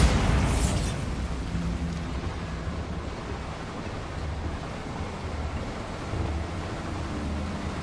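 A Bombarda blasting spell explodes in Hogwarts Legacy with a sharp, loud blast at the very start, then fades into a long, low rumbling wash of debris and ambience.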